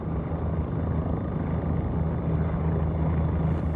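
OH-58 Kiowa helicopter in the X-Plane flight simulator, a steady, loud rotor and turbine drone with a low throbbing hum held evenly throughout, no voices.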